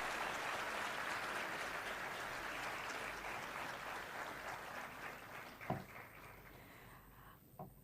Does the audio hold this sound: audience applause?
yes